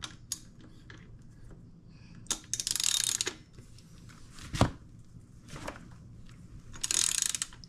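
A ratchet wrench tightens a 20 mm nut on an electric scooter wheel, with short bursts of rapid clicking ratchet strokes separated by pauses and a single sharp knock midway, heard up close.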